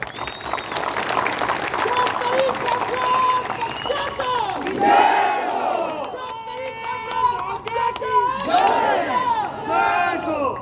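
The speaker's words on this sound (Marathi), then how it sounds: "एकदा जोरदार जल्लोष होऊ द्या." A large crowd at a political rally in Maharashtra cheers and shouts loudly, rising in several swelling waves of whoops and yells, with a speaker's voice mixed in.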